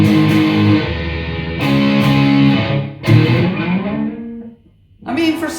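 A Peavey Vandenberg Signature electric guitar, matte black 2024 reissue, plays heavily distorted chords close up, with sustained ringing notes and strummed attacks, a brief gap, then more chords.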